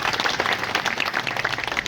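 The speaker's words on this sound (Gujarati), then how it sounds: "એટલે પહેલાં તો બધા માટે તાળી." A room of attendees at a free kidney diagnosis camp in Bhavnagar breaks into steady applause, many hands clapping in a lively, even patter at moderate volume with no voices on top.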